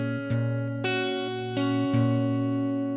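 Clean guitar picking a short melodic phrase from a song, fretted notes mixed with open strings plucked by the thumb, ringing sustained tones with a few distinct note attacks, played alone and fairly soft.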